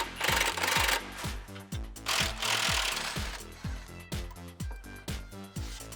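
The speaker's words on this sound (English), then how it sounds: "18mm wrench and socket." An 18mm wrench and socket loosen a rear shock bolt on a 2007–2018 Jeep Wrangler JK, with a close, rhythmic series of ratcheting clicks repeating in quick strokes.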